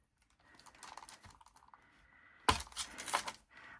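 A plastic pot is sliced straight down its side to free a silicone mold, giving a sudden sharp crack followed by scraping, crackling cuts close by. Quiet handling noises come first, with no speech.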